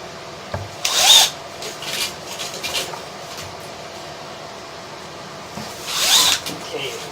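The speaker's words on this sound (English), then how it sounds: "We've got our drill set on our number 2 speed of this 3-speed DeWalt" A 3-speed DeWalt drill set to second speed with a low clutch setting turns a root removal cable inside a sewer line, giving short whirring bursts with scraping and rubbing between them, while a voice talks over parts of it.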